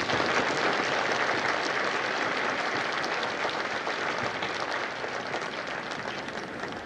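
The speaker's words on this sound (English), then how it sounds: "Please give yourselves a round of applause." A crowd at a U.S. Marine Corps recruit graduation ceremony at MCRD San Diego claps in sustained, dense applause that stays loud throughout and tapers slightly toward the end.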